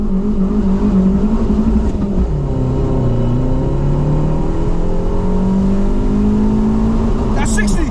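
A tuned 2009 Abarth 500 small turbo hatchback accelerating hard from a standstill toward 60 mph: the engine drone climbs steadily in pitch, dips once at a gear change, then rises again, loud and close from inside the car.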